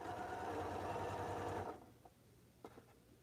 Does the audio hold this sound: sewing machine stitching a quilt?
yes